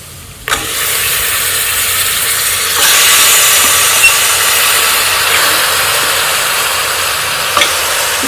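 Washed mutton hits a hot pot of oil and turmeric with a sudden loud sizzle that holds as a steady, dense hiss and swells further partway through, with no talking.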